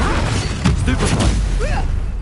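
A Stupefy stunning spell in the video game Hogwarts Legacy lands with a loud booming burst and crunching impact amid dense game noise, with a brief voice cry near the end.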